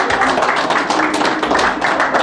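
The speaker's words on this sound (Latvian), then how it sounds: "Aplausi!" A studio audience at a school quiz final applauds team Mango, a dense, loud, even wash of clapping close by with no gaps.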